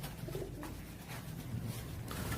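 Pigeons coo softly and repeatedly at close range, their low murmuring calls running steadily with no talk over them.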